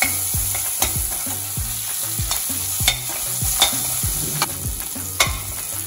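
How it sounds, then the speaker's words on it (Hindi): A spatula stirs sliced onions and potatoes in a hot frying pan for honey chilli potato, scraping in steady, repeated strokes over a continuous low sizzle, with sharper clacks against the pan every second or so. "इसे हम सिर्फ 1-2 मिनट ही इसमें चलाएंगे ताकि ये हल्की सी गल जाए।"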